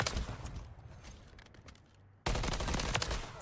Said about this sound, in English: That was the guy shooting me, bro.